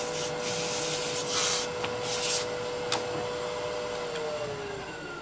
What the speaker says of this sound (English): sand the outside, sand the inside